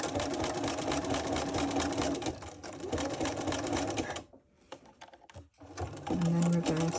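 A sewing machine stitches down a loop on a rope bowl made from sash cord, running steadily for about four seconds, pausing with a few clicks, then starting again briefly.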